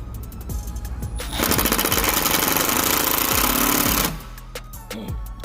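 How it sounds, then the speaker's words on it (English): A power drill drives a screw to mount a front speaker in a 2018 Nissan Versa: a few short ticks, then a loud close rattling buzz for about three seconds, then a couple of clicks afterward. "so let me drill this one in real quick."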